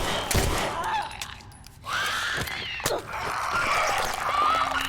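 Gunfire in The Last of Us Left Behind: several sharp gunshot bursts and thumps mixed with game sounds, loud and close, irregularly spaced over a few seconds.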